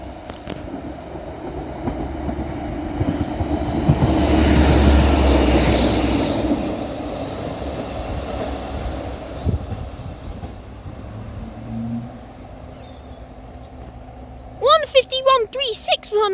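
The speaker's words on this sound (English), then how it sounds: "Passing through is going to be a Northern Class 150 for Blackburn from Headbot Lane." A Northern Class 150 diesel unit passes through Ince station, a rising rumble and wheel clatter that peaks and fades over several seconds, followed by quiet platform ambience and a brief squeal near the end.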